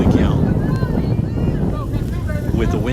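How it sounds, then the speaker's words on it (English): A strong wind gust of about 50 mph buffets the microphone at an outdoor high school softball game, a loud, continuous low roar that fills the whole stretch. "With a wind gust of 50 miles per hour."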